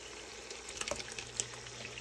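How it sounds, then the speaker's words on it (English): Passata poured into a sizzling pan of baccalà alla ghiotta, a soft liquid splash and pour over a steady low frying hiss, close and fairly quiet with a few brief louder spatters. "Now I'm going to add some passata."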